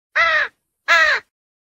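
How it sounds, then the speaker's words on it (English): A crow gives two loud, harsh caws with a short gap between them, close and clear against silence. "Crow."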